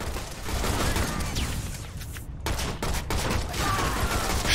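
Sustained gunfire in an Xbox Live Arcade shooter, a dense, continuous roar of shots with a few brief gaps, steady and fairly loud throughout.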